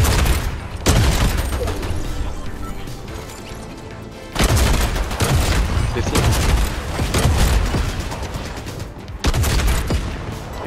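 Bombing explosions and heavy gunfire in a video game match, loud sustained bursts of booms and rapid shots in three waves separated by brief lulls, with occasional voices under the barrage.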